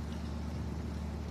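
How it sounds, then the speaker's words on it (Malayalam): A passenger boat on the Alappuzha backwaters in Kerala cuts through the water, its engine giving a steady low drone with a continuous water wash, heard close and fairly quiet, with no voices. "കാൽപ്പരപ്പിനെ വെള്ളത്തെ കീറി മുറിച്ചുകൊണ്ട് അടുത്ത സ്റ്റോപ്പിലേക്ക് ബോട്ട് യാത്രയാകുകയാണ്."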